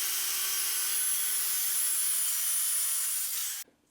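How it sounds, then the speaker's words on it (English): Power saw ripping a clamped MDF board for a cat scratching post, a loud steady whine with a bright buzzing edge running unbroken for over three seconds before cutting off abruptly. "I've got my saw out. I've got this clamped up to be my straight edge, and I'm just going to go ahead and rip this down."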